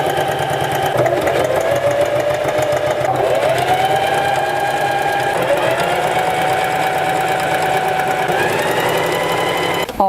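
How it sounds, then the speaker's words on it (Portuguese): Sewing machine running steadily for about ten seconds, stitching a fabric lining onto the main base of a pet-fashion bow organiser, with a loud continuous motor hum and rapid needle knocking that shifts pitch slightly as speed changes. "Aqui a gente passa agora uma costura em toda a peça só para fixar esse forro na nossa base principal"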